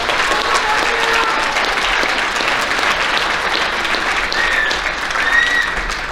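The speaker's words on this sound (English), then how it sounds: "Give these players a round of applause." An audience at a 2022 high school athletic banquet applauds the girls' basketball players with loud, steady clapping that fills the hall for several seconds, with no speech over it.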